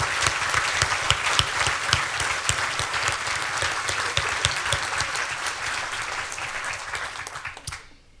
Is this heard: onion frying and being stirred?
no